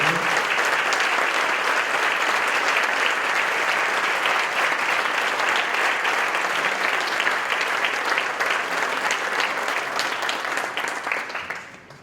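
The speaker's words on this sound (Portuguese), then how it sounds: "Vamos aplaudir Jesus nesse grande pastor Diogo, né?" A church congregation at a Baptist service applauding their pastor, a steady, loud wash of many hands clapping together that holds evenly for several seconds before fading at the end, with no voices over it.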